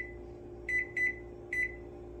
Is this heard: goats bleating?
no